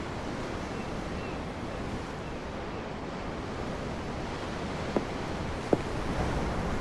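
Ocean waves washing against a ship at sea in Tales of Arise, a steady broadband surf with wind, continuous and moderately loud, with two brief faint knocks near the end.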